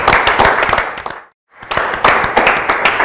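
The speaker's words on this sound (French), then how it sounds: "Applaudissements." A crowd claps loudly and close by in two bursts of brisk, dense applause with a sharp cut to near silence in the middle.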